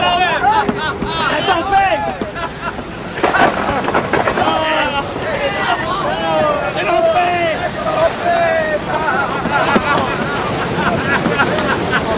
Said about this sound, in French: La tempête.